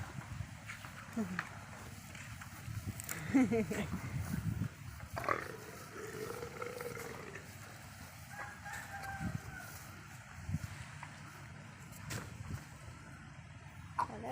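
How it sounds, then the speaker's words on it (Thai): Chickens on a cold morning, with a rooster's crow drawn out faintly in the distance, mostly under people talking nearby in a quiet outdoor setting. "ไก่ไก่นะครับ"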